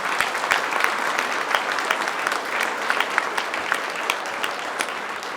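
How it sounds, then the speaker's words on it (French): A hall full of people applauding, dense steady clapping with some individual sharper claps standing out, sustained throughout. "Je veux bien des petits applaudissements."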